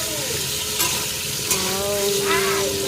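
Potatoes frying in hot oil in a pan, a dense close sizzle with a few scraping stirs and bubbling crackle, loud and steady without speech.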